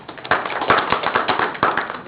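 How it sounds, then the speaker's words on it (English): Audience applause breaks out at a city council meeting, a dense patter of many hands clapping steadily at moderate loudness for the whole stretch, with no voices over it. "The applause is inappropriate."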